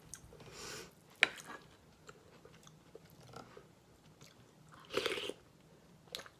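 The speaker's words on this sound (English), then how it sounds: "I'm now eating this just because it's tasty, not because I'm hungry" Someone eats leftover vegan soup with broth up close, with soft bites and chewing, a sharp tick of a spoon, and a louder slurp or crunch near the end, all fairly faint.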